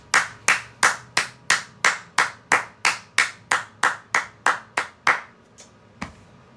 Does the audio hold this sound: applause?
yes